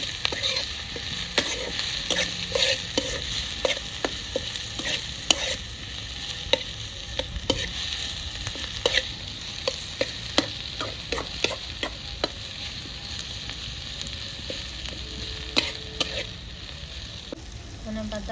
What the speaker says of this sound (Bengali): এগুলোকে ভাজা করে নেবো পেঁয়াজের সঙ্গে